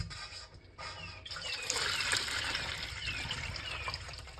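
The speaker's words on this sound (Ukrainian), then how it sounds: "В миску, в якій будемо вимішувати тісто, виливаємо молоко, нагріте смальцем та маслом." Warm milk, heated with lard and butter, pours steadily into a mixing bowl for Easter paska dough, with a close, soft continuous liquid stream that swells after a brief start.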